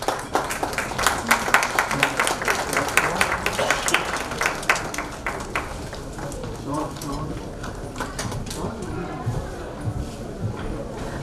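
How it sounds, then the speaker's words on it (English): An audience at a stage honoring ceremony breaks into applause, a dense, loud patter of many hands clapping that gradually thins and softens toward the end. "A big round of applause for both of them"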